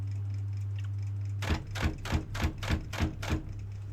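An Imperial typewriter, a rebadged German Adler, clacks through about seven sharp, evenly spaced strokes after a stretch of steady mechanical hum, each one crisp and close.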